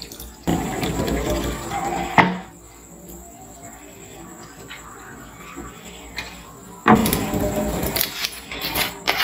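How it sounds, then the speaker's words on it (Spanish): Water is poured over chopped apples and carrots in a home kitchen, coming as two loud splashing bursts separated by a quieter pause, close up and without speech. "Ahora vamos a poner, a vertir un poquito de agua."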